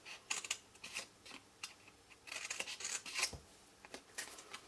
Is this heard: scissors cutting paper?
yes